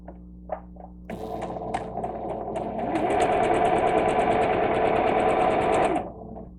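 A sewing machine stitches quilt block pieces for a Churn Dash block, starting after a few soft clicks and running in a steady, close, whirring burst of about five seconds that rises in speed before stopping.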